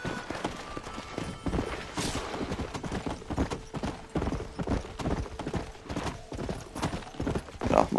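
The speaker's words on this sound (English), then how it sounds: "Calling the horse." Horse hooves clip-clop in a steady galloping rhythm during a gang shootout at MacFarlane's Ranch in Red Dead Redemption, loud and close over a busy game soundscape, with a brief whinny-like call near the end.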